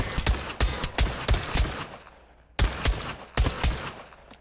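Rapid gunshots hitting targets in the VR shooter Pavlov Shack, loud close bursts of several sharp cracks, a brief pause, then two more quick volleys with no talking.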